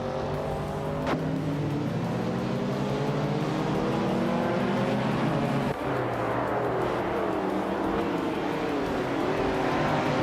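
Racing cars, among them a 1966 MG, roar continuously around a track, engines droning loud and steady with shifting pitch as cars pass close by, no voices.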